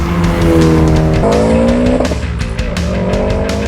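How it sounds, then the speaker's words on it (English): A rally car speeds past at a car week event in Monterey, its engine loud and close and rising then falling in pitch, with gear changes, a rough exhaust note and some tire noise. Nobody speaks. "Rally car!"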